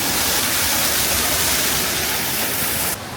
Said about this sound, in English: there's this waterfall we can walk behind here to the back side of water.